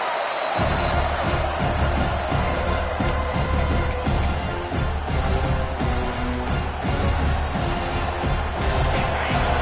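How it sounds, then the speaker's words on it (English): A packed stadium crowd roars at a college football game between Arkansas and Texas, a dense, loud, continuous wall of noise that stays at full intensity from start to end. "Listen to this crowd just shaking the girders of this place, trying to help their defense."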